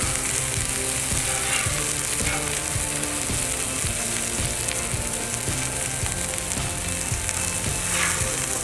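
A mahi mahi fillet seasoned with salt and pepper fries in a pan for garlic-style fish. A loud, dense sizzle and crackle holds steady from start to finish, close by and without any voices.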